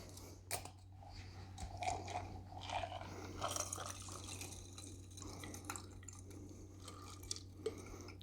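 A pulpy lime and Topo Chico cocktail is double strained into a chilled glass, giving faint, intermittent trickles and drips of liquid over a low steady hum.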